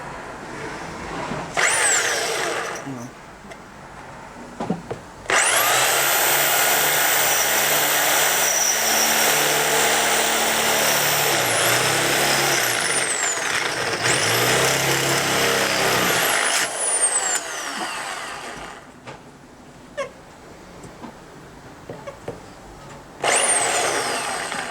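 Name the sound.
electric drill drilling holes in a Mk3 Cortina Estate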